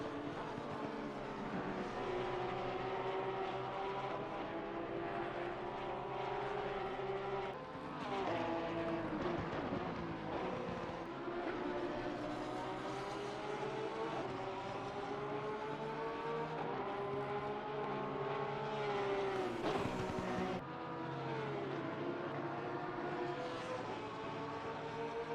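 Race cars in a sim racing game lapping Laguna Seca, with a steady engine whine that rises and falls through gear changes, several cars blending into one loud continuous drone with no commentary over it.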